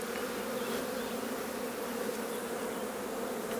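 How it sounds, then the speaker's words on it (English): Honey bees shaken from a hive frame into a box make a dense, continuous buzz. The steady swarm drone is close and fairly loud, holds evenly throughout, and has no talking over it. "Now I'm just going to shake a load of bees into that box."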